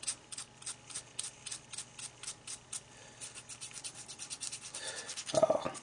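Steady rhythmic rasping strokes rounding off the end of a plastic rod, repeating about twice a second and growing rougher toward the end.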